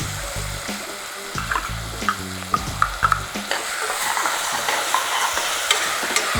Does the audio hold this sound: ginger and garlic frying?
yes